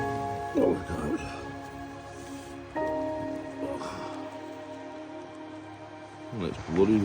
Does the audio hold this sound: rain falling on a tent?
yes